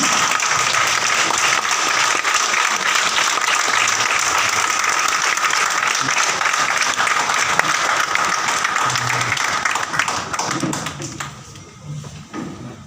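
Loud, dense applause from an audience at an IMC recognition and award seminar in Bathinda, steady and full for most of the stretch before gradually thinning and fading near the end.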